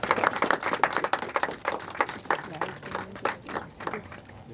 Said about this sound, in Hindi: Please एक बार जोरदार तालियां